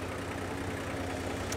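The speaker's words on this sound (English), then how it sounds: "this thing's actually idling" A 1968 Toyota Land Cruiser FJ45 engine idles smoothly, a steady low rumble close by with no talk over it.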